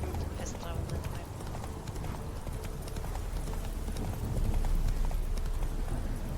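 Game horse Roach from The Witcher 3 gallops with a steady, rapid clip-clop of hooves under a dense wash of game ambience, the hoofbeats continuous and close throughout, with a voice talking over it.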